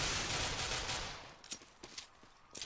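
Gunfire in the video game CS:GO, a dense burst of shots at first that thins into several quick separate cracks, loud and close, without talk.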